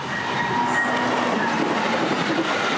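Northbound Brightline passenger train BLF 702 speeds past in South Florida after a two-minute station stop. It makes a loud, continuous rushing roar with faint wheel squeal, close by, and no voices.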